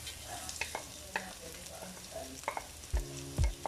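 Onion frying in a pan, a faint steady sizzle under scattered clicks and scrapes from stirring, with a couple of heavier thumps near the end.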